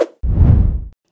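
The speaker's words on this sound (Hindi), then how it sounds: "risers, whoosh," A whoosh sound effect of the kind used in video editing: a single broad rushing swish that swells and fades over under a second, heard alone after a brief blip.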